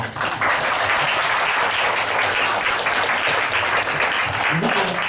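A congregation in a Korean church service breaks into sustained, dense clapping that fills the room evenly for several seconds, close and loud.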